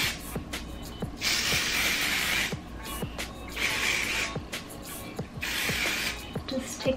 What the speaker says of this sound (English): the last thing that I do is just my R & Co. hairspray